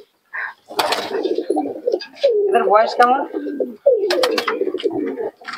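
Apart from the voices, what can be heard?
pigeons cooing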